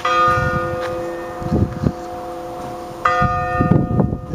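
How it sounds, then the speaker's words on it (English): A working bell on a sandstone clock, apparently a carved figure of a man shearing a sheep, strikes the hour in the morning with a few resonant tolls and long sustained ringing tones, fairly close, over outdoor background noise. "It even has a bell that works."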